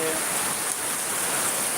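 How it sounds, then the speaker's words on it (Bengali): Steady rain in Bangladesh hisses as an even wash of noise, close and continuous, with no breaks. "আমাদের এখানে গতকালকে থেকে বৃষ্টি শুরু হচ্ছে হয়েছে এখনো পর্যন্ত বৃষ্টি থামে না"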